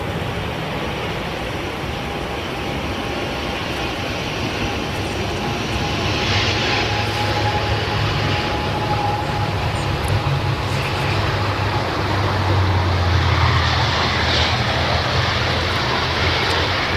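An airplane, likely an ATR turboprop, arrives at Manchester Airport with a loud, sustained engine roar and broadband rush that swells slightly as it passes nearby, with no talking.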